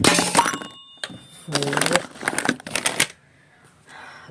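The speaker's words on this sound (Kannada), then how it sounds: "ಬಿತ್ತು ಫೋನ್ ಬಿತ್ತು ಫೋನ್ ಬಿದ್ದರೆ ಕುಕ್ಕರ್ ಮೇಲೆ ಬೀಳೋದು" A phone drops onto a pressure cooker in a home kitchen, giving a burst of close, loud metallic clattering, a brief pause, then a second run of rattling knocks before the room falls quiet.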